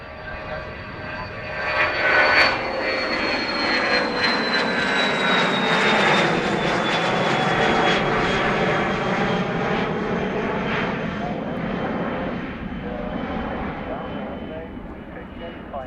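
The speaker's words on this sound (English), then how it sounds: "KLM gonna taxi down the runway and vacate here in front of us for some reason" A KLM jet airliner taxis on the runway at Dublin Airport, its engines a steady loud whine and roar with sweeping tones across the full length. A voice talks over the engine noise.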